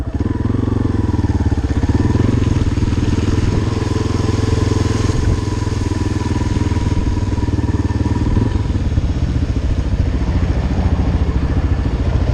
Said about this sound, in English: Don't see Blackhawks at 100 foot over the rooftops every day.